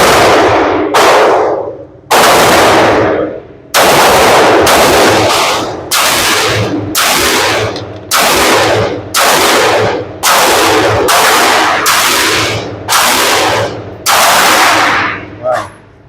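Ruger handgun fired over and over, around a dozen sharp loud shots in an irregular, fairly rapid rhythm, each with a short decaying tail, close by.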